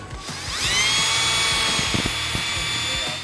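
A power drill whines loudly and steadily, its pitch rising as it spins up, with clicks and low rumbles underneath.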